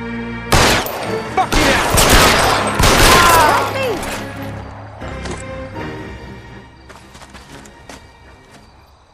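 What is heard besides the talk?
gunfire in video game L.A. Noire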